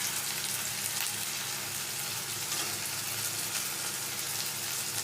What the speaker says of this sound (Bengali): পেঁয়াজের সাথে ভালো করে মিশিয়ে নিচ্ছি